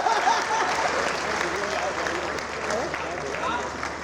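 An audience at a Hindi poetry gathering (kavi sammelan) claps in a sustained, dense burst of applause, with crowd voices mixed in.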